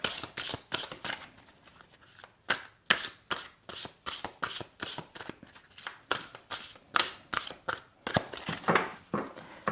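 Angel tarot cards are shuffled by hand close up, a rapid series of crisp riffling and flicking bursts in an irregular rhythm, with no speech.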